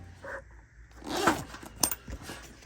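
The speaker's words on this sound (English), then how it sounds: "It's got the coolest zippers. I've never seen waterproof zippers like this." A zipper on a waterproof EDC bag being pulled open or shut, close up, with a few scraping, rasping strokes in quick succession and no talking.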